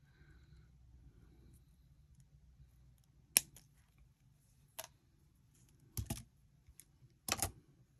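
Sharp little snips as beading thread is trimmed while making galaxy earrings, several quick close clicks spaced over a quiet background, with soft handling noise between cuts.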